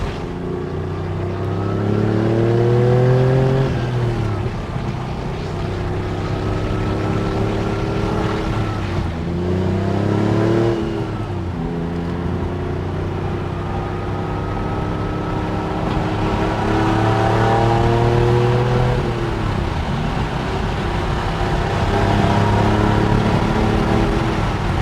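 A 1996 Porsche 911 993 Turbo GT2 Evocation engine pulls hard from inside the cabin, with strong rising revs through several gears and brief dips at each shift, loud and close, with no talk.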